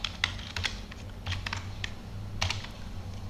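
Fingers tap steadily on a computer keyboard, a quick irregular run of light clicks close by over a low constant hum, with no talking.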